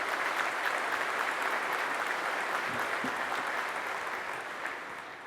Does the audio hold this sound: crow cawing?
no